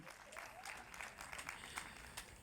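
Faint, scattered applause from a crowd at an outdoor domestic violence awareness walk, thin, uneven clapping lasting a couple of seconds, heard at a distance.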